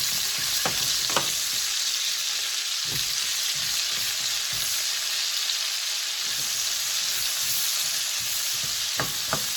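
Roughly chopped onion fries in a pan as part of a Southern fried cabbage dish with bacon and sausage, a steady loud hiss of sizzling broken by a few soft stirring scrapes, no voices.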